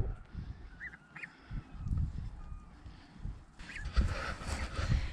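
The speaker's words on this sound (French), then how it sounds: "Les canetons sont sortis, ça y est." Honking, goose-like calls from ducks and ducklings sound over a steady outdoor background, a few short calls early and a busier cluster near the end.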